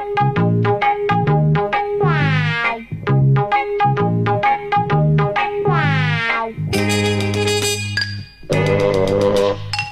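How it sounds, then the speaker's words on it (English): An iPhone's built-in laser sound effect fires off a rapid series of bright, electronic pew-like zaps and sweeping chirps, loud and up close, with no talking over them. "your phone should turn into a pretty little laser"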